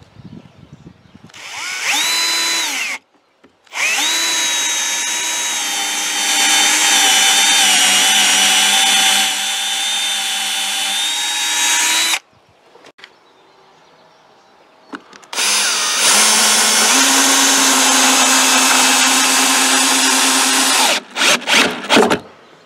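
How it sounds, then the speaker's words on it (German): A power drill drives a thick screw into the wooden substructure of a roof shelter, close and loud. Long sustained whining bursts rise and fall in pitch, with short pauses between them and a final sputter of brief pulses. "setze eine richtig dicke Schraube rein, die in die Unterkonstruktion des Dachunterstandes gehen sollte"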